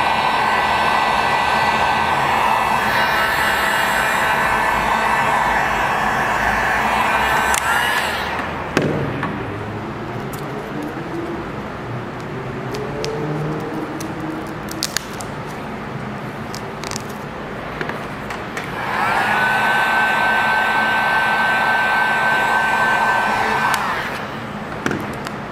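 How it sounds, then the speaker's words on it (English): A heat gun blowing on headlamp tint film for a 2018 RAM, a loud steady whooshing roar that cuts off, leaves a stretch of quieter handling noise and light knocks, then starts up again. "If I take a heat gun to it and just wave it, it'll literally return itself right back to flat"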